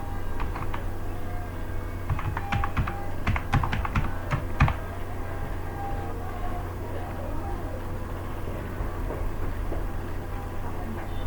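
Keys on a computer keyboard clatter in quick irregular bursts while text is typed into Microsoft Word, then trail off, leaving a steady low background hum for the remaining seconds.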